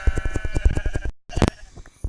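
A wavering Minecraft sheep bleat repeats in a rapid pulsing rhythm, then cuts off abruptly, followed by a sharp hit and a few faint clicks.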